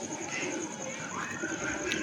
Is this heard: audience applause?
no